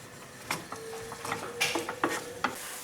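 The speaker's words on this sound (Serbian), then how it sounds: "i pržit ćemo dok se malo ne mekša." Vegetables for chilli and sweet chilli sauce frying in a pan of oil, with soft crackles and a few stirring scrapes and clicks, fairly quiet and close.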